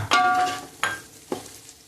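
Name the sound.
masala frying in ghee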